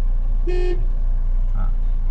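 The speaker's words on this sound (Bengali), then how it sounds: "এখানে চাপ দিলে হর্ন বাজবে" An auto rickshaw horn gives one short, clear toot close by, set against a steady low engine rumble.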